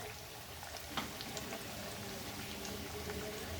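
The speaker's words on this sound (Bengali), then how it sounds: "গ্যাসটা আবারও একটু কম করে নেব, এটা ভাজতে থাকবো" Dhoka, lentil cakes, frying in oil in a pan on a gas stove: a steady, fairly quiet sizzle with faint crackles and pops throughout.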